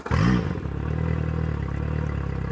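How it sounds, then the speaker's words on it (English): Outboard boat motor running on a motor flusher, with a sharp start-up burst before settling into a steady, close idle with a rattling, mechanical chug. "start up the engine"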